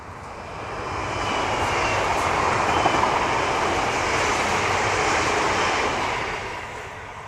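A train passes by near a country path on an e-bike ride between Haigh Hall and Rivington, a steady broad rumble that swells in, holds loud for several seconds, then fades, with no talking.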